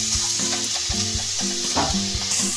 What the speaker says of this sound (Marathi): इथे आपण गूळ, खोबरे आणि वेलदोड्याचे मिश्रण इथे तुपामध्ये टाकून घेतलेलं आहे।